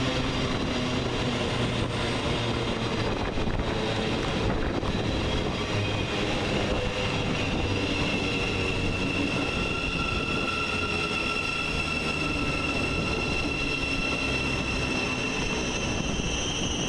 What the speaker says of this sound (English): 700-138 arrives on platform 3 with the 1411 Govia Thameslink service from Gatwick Airport